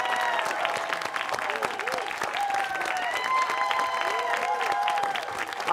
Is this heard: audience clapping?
yes